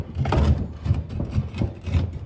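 Pry bar working bushings out of a classic Mustang leaf spring eye, repeated scraping, grinding pushes in an uneven rhythm, close and fairly loud.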